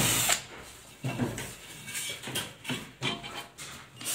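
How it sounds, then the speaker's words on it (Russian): Holes are drilled for aluminium lighting profile, a power drill whirring in several short bursts, fairly close and moderately loud, with brief pauses between them. "Сверлим"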